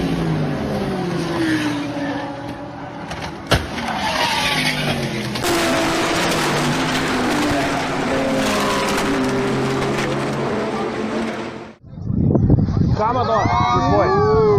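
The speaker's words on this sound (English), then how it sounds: "We got a big old wreck. Oh, the front straightaway." Race cars crash on the front straightaway in a big wreck: engines roar and tires skid amid crunching impact noise, with commentators talking excitedly over it, then a cut to a different loud scene near the end.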